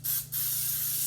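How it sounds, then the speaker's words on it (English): Pam cooking spray with flour hissing onto a cake pan in a steady, close spray with a brief pause near the start, the bursts fairly loud and broadband. "I'm going to go ahead and spray it nice all the way around"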